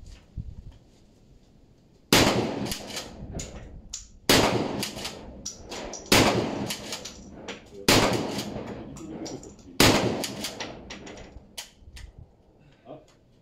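Five loud gunshots ring out at regular intervals of about two seconds, each sharp and booming with a trailing echo in an outdoor setting, followed by a fainter final pop.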